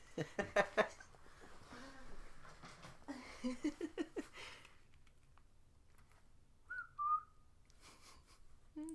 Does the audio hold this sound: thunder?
no